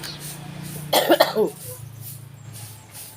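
A single close, harsh burst of coughing, two or three quick hacks, over a quiet low background hum.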